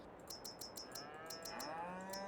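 Cattle moo in a farming video game: a close, drawn-out low call rises and bends in pitch beneath a regular, rapid run of bright clinking tones.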